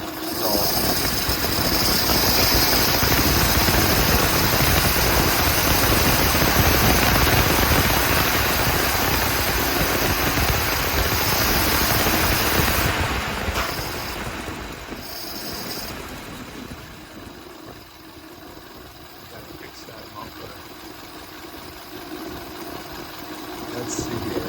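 An engine fitted with a Stromberg DD-3 carburetor runs steadily with a loud, rough drone for about fifteen seconds, then settles to a quieter, lower idle as the fuel runs out.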